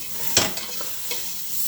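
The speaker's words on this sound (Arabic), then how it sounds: "كنقلي هاد العناصر هادو، هاد المكونات" Vegetables and ingredients for a green karaa dish stirred and frying in butter in a pan: one brief scrape of stirring, then a soft, steady sizzle.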